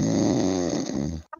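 A sleeping dog snores loudly and close, one long rattling, throaty breath followed by a short snort.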